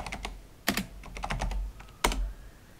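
Commands typed into a Windows 10 command prompt on a computer keyboard: close, crisp key clicks in quick irregular runs, with two louder strikes that sound like the Enter key, and no talking.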